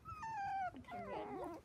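Four-week-old Dachshund puppy giving a close run of high, whiny whimpers and squeaky yips, a sustained whine first, then wavering cries that rise and fall in quick succession.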